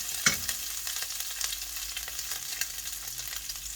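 Mixed vegetables and garlic stir-fry in pork lard, giving a steady close sizzle with scraping stir sounds and a sharp clank at the start, no voices.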